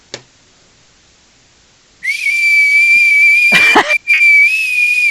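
A person whistles a long, steady high tone that starts after a brief quiet pause and holds clear and close, broken once by a short breathy rustle, with no talking.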